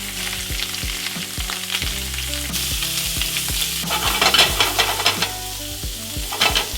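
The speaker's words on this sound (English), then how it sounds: "now in we go with the shrimp." Shrimp sizzling loudly in a pan of bacon drippings, a steady close fry with rapid crackles and spatters that grow busier as the pieces go in and are moved around.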